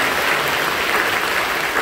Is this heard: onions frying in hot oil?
no